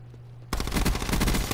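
VMP submachine gun in Call of Duty Black Ops 4 opening up after a near-silent moment, a loud, close, rapid continuous burst of automatic fire lasting over a second.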